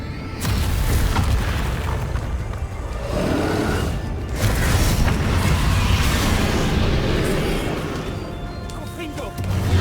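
The Confringo spell explodes repeatedly in Hogwarts Legacy, with loud, dense booming bursts in quick succession amid combat noise, and a voice speaking over it.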